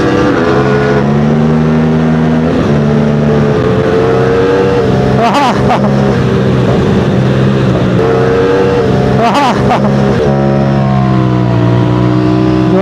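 Aprilia RS457 motorcycle engine riding over gravel and sand, a steady close engine drone with strong harmonics and gear-shift dips, stones clattering in places and wind roar over it.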